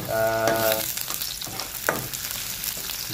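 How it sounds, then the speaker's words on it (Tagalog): Garlic, onion and green chili sautéing in a pan, a loud hiss with clattering stirs and scrapes, preceded by a brief tonal hum at the start. "sinulan natin yung ahos, tapos sibuyas, with siling green."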